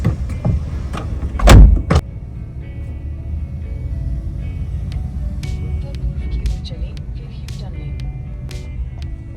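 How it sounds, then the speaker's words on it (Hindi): A cab pulls up and a passenger climbs in on an early-morning ride, with a loud door clunk near the start, faint clicks and rustles following over a steady idling engine hum, and a brief spoken greeting in the cabin. "कैब आई मेरे दरवाजे के पास, तो मैं कैब में बैठ गई"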